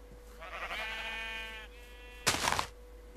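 A grey sheep in Minecraft lets out a drawn-out, wavering bleat, followed by a short burst of broadband noise near the end.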